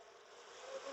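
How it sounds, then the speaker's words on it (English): Bees crowd inside an apparently robbed-out hive colony, giving off a faint, steady buzzing hum that swells slightly toward the end, with no voices. "Bunch of bees in there."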